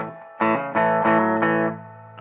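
Electric guitar played with light distortion in a song lesson: sustained, saturated chords struck in a steady sequence of several strums, close and fairly loud, with no talking.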